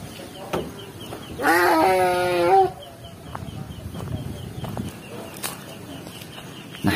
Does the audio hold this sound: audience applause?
no